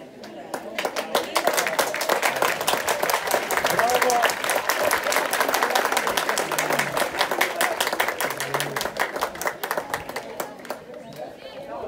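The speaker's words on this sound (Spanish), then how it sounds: "Fuertes los aplausos" Parents and students at a school event applaud at length, a dense, lively clapping crowd with chatter and voices mixed in, loud and continuous.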